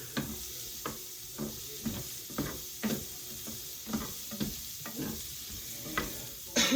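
Vegetables sautéing in a pan, a soft sizzle broken by a regular series of stirring scrapes and taps, quiet and close with no voices.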